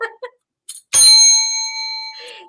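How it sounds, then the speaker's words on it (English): A single bell struck once and left to ring, its bright tone sustaining and slowly fading for over a second after a few faint, short sounds at the start. "let's keep ringing that bell"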